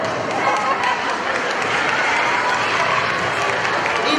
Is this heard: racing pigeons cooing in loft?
no